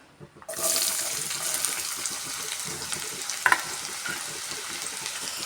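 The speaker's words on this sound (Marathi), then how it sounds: "तेल मी तापाला ठेवलं आहे आणि चांगलं गरम पण झालं आहे आता त्यात टाकते मी कांदा" Chopped onion dropped into hot oil in a kadai, bursting into a loud, steady sizzle right after a quiet start, with a brief clatter partway through; close and alone, no voices.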